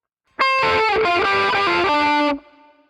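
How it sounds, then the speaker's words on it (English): A distorted electric guitar plays a rapid solo section at full speed from a song, with a steady run of bending, connected notes that stops abruptly after about two seconds. "And that whole section up to speed sounds like this."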